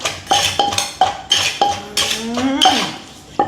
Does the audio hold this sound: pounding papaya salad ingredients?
yes